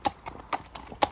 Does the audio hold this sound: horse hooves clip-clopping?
yes